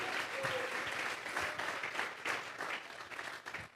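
A church congregation claps together in a loud, sustained round of applause with some cheering, filling the whole moment.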